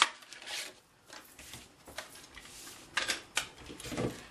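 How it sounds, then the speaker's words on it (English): Melon Mambo cardstock is pushed through a 1 3/4 inch circle punch, giving faint, close clicks and scraping rustles from handling the paper at irregular intervals, with no talking. "we're going to take the 1 3/4 inch circle punch and punch out the Melon Mambo. Punch 2 of those out."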